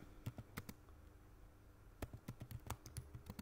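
Quick bursts of keystrokes on a computer keyboard, a short cluster of taps followed by a pause and then a busier run of typing, close and fairly quiet with no talking.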